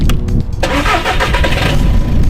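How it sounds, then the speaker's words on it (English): BMW E46 engine starting with little exhaust: a short starter crank, then the engine catches loudly and settles into a raspy idle close up. "Time to do the obligatory YouTube startup with little or less exhaust."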